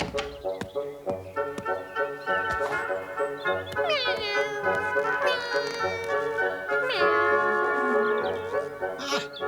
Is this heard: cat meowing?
yes